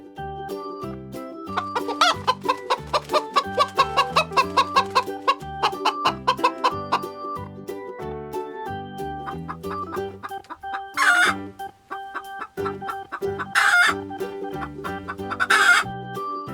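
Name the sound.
chicken clucking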